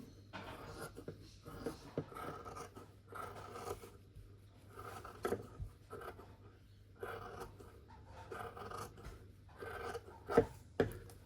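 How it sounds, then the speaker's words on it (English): Serrated scissors snipping through quilted fabric along marked lines, quiet intermittent rasping cuts in short bursts with pauses between, close and faint. "So here's my scissors."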